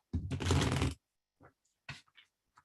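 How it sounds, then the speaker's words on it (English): A deck of playing cards is shuffled in one long riffle burst, followed by a few short, crisp taps and flicks as the cards are squared up, close and fairly loud, with no talking. "I want to shuffle really, really good."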